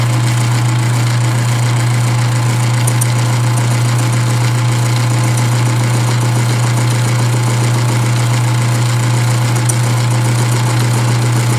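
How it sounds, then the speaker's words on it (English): Cutter machining a hard, unevenly worn steering peg from an X231 tractor, a loud steady motor drone with a strong low hum and a constant rough grinding texture throughout, no speech. "Now we just see if the cutter can do anything with it or if it's just too hard."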